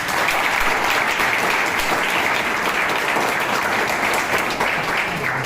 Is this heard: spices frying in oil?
no